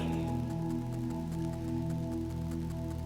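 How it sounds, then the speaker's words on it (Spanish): Steady rain falls in a continuous hiss with scattered drop taps, heard under a constant droning hum and low tonal background throughout. "¿Sabe por qué está lloviendo?"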